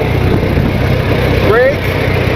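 A 100-year-old car engine idles in neutral with a steady low rumble throughout, and a short rising squeak comes in about two-thirds of the way through.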